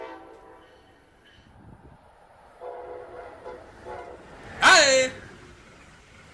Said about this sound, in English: The ACS-64 comes equipped with a Nathan K5LA air horn.